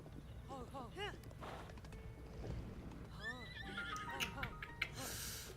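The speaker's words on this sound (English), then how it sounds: "What shall I name this horse now?" Repeated whinnies and neighs from a horse in Zelda: Tears of the Kingdom, several bursts close together amid clip-clop hooves, under a voice.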